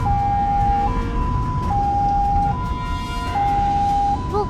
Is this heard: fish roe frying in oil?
no